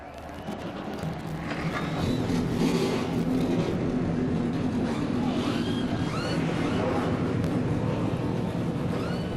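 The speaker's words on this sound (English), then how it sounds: "Drivers, start your engines!" Race truck engines rev together at the start of a NASCAR Racing 2003 truck series event at Columbia, a dense, sustained mechanical roar with scattered rising whines from several engines, steady and fairly loud throughout.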